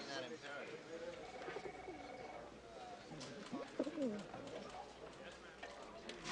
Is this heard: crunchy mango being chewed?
no